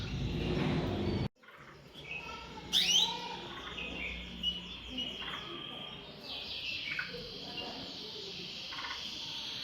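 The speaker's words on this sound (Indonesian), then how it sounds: "ini anakan burung emprit Jawa, baru menetas" Newly hatched Java sparrow chick in a canary's nest, giving thin high chirps in short bursts amid other bird calls and crickets after an opening stretch of broadband noise.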